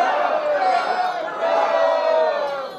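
Wedding guests in a group shout a long, drawn-out hurrah toast that swells twice, loud and close, a chorus of raised voices ringing together.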